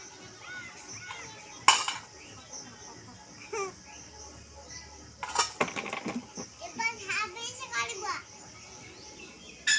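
A small child bangs metal utensils, pots and dishes, sending out a few sharp, loud clangs amid the child's babble and nearby adult talk.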